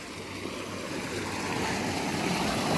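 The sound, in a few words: water flowing into a farm field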